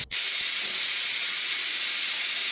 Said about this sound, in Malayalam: ഒരു അഞ്ചാറ് വിസിൽ വരുന്നത് വരെ അടച്ചു വെക്കാം